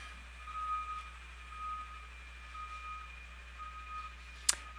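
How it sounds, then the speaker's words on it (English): A garbage truck outside sounds its reversing alarm, a steady series of faint, evenly spaced high beeps repeating about once a second over constant low hum, with a brief sharp click near the end. "The garbage truck is outside. It's making a lot of noises."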